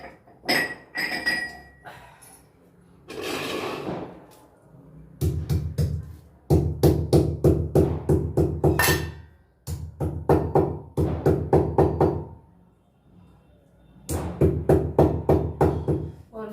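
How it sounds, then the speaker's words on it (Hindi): Five to seven small green cardamom pods are crushed in a kitchen, heard as bursts of sharp rhythmic pounding and clinking strikes separated by short pauses. "और मैं लूंगी 5 से 7 ये छोटी इलायची, और इसको अब फोड़ दूंगी अच्छे से।"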